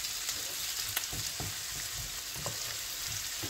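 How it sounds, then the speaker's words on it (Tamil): Chopped onions and tomatoes sauté in a pan, giving a steady close sizzle with intermittent clinks and scrapes of stirring, no voices. "இங்கே வந்து வெங்காயமும் நல்லா வதங்கிட்டு இருக்குது, இன்னும் கொஞ்சம் நல்லா வதங்கணும்"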